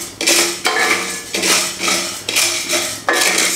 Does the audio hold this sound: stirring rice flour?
yes